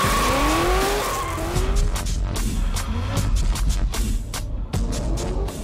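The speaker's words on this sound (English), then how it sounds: "This discipline that he wants to launch in India is called the drift" A drift race car slides around a private circuit, tires squealing in long rising and falling whines over a rumbling engine, followed by repeated sharp skids and bursts as the car keeps sliding.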